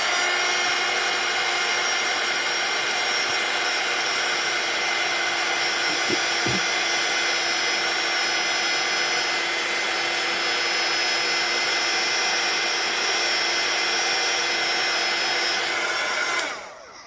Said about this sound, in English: I am just going to grab my heat tool and emboss this, so it'll be a little bit noisy